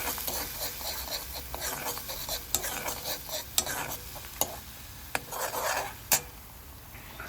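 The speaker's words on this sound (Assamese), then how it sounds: "এতিয়া মই কেৰাহীখনত দি দিম নহৰু পিয়াজ আৰু ধনিয়াৰ পেষ্টটো যেটো মই মিক্সিত মাৰি থৈছিলো আৰু ভালদৰে অলপ ভাজিম" Garlic, onion and coriander paste frying and being stirred in a kadai, with a steady sizzle under repeated scraping and stirring strokes and a few sharp utensil knocks, close up with no talking.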